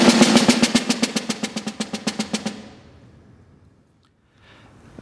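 Snare drum struck in a steady run of evenly spaced strokes that fade from loud to soft over about three seconds, then ring out into quiet.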